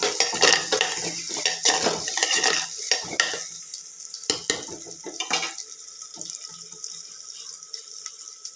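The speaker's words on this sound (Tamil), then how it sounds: "நல்லா கலக்கி விட்டு நல்லா வேகட்டும் வெங்காயம்" A spoon scrapes and stirs onions cooking in a clay pot for a ridged-gourd dish, with repeated close scraping strokes over a soft sizzle, then quieter sizzling and occasional clinks.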